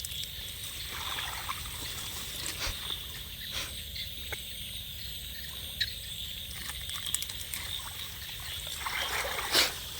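Flood water flowing over and through a submerged fish trap, a soft, continuous trickling and gurgling with a few brief splashes, while insects or crickets chirp faintly in the background.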